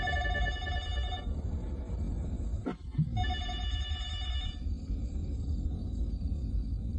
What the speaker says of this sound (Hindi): बेवजह के फोन आते रहते हैं हमेशा,